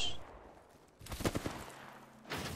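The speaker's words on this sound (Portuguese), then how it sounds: "Já estão atirando aí, hein?" Distant bursts of automatic gunfire in an Apex Legends match, a quick rattling volley followed by a few faint shots, fairly quiet and set apart from other sounds.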